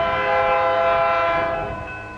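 Eastbound Union Pacific train passing through Montour, Iowa, its horn sounding a loud sustained chord over the rumble of the rails, then easing off toward the end.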